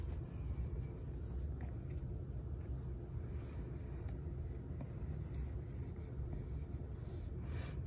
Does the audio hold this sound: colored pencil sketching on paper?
yes